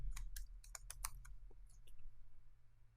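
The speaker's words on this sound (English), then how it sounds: "This time I'll type in LA." Quick, light keystrokes on a computer keyboard, a short cluster of soft clicks that taper off over a couple of seconds in a quiet room.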